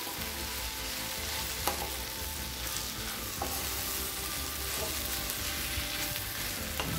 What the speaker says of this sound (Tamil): ஆறு சப்பாத்தி சேர்த்துக்கிறேன். இதை ஒரு தடவை லேசாக வதக்கிக்கலாம்.